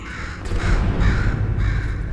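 In Portal 2, a crow caws loudly and close in several harsh, repeated calls over a steady rumbling background.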